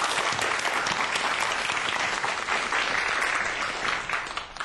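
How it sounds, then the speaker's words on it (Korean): A lecture-hall audience breaks into warm, sustained applause welcoming a speaker on earthquakes, a thick even clatter of clapping that thins out at the very end. "큰 박수 청해볼게요."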